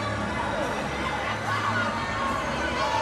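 An arena crowd at a swimming match cheers and chatters in a steady, loud wash of noise, with a commentator talking over it.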